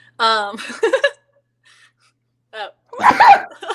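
Two loud sneezes from an adult man, a sharp vocal burst followed after a pause by a second explosive sneeze, with a short exclamation in between.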